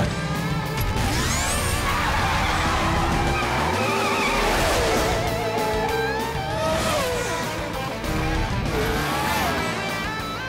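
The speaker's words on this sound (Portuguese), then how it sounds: "Agora vamos descobrir o quão rápido este carro de corrida consegue ir." A cartoon race car speeds along with a steady, loud engine roar, rising and falling whooshes and tire squeals, backed by continuous music and sound effects throughout.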